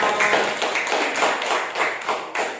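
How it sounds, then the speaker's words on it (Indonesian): A class of schoolchildren claps together in a dense, continuous burst of many hands, with slight rhythmic surges, fairly loud and close throughout. "tepuk tangan dulu untuk kita semua"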